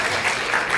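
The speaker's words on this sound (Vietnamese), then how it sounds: "chúng ta hãy dành cho hai câu vừa rồi một tràng pháo tay được không ạ?" A brief burst of audience applause at a Vietnamese interview event, a dense, even wash of clapping with no voices.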